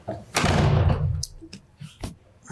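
A heavy door swinging shut in a town warrant committee meeting room, one loud, long whooshing thud followed by a few softer knocks and small clicks as the room settles.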